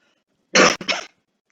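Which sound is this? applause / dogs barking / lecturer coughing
lecturer coughing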